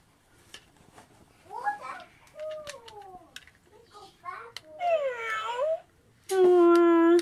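Pet cat meowing several times, drawn-out tonal meows that grow louder toward the end, close by, with someone talking in between.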